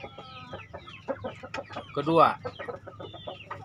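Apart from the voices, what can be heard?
chickens clucking, brooding hens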